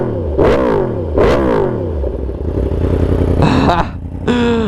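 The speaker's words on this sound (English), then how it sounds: "I gotta give you guys some revs. This bike is so insanely loud and sounds so good." A Yamaha R1 with a crossplane engine and a full titanium Austin Racing exhaust is revved hard twice, loud and close, then gives a few quicker, sharper throttle blips.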